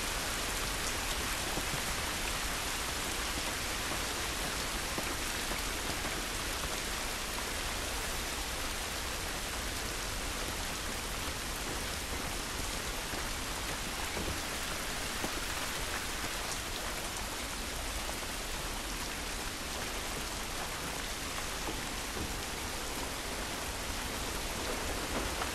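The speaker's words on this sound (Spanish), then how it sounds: "Esta lluvia no nos va a ayudar" Steady, dense rain pours outdoors in The Last of Us Remastered, a constant loud hiss of drops on surfaces that holds unbroken for the whole stretch, with no voices.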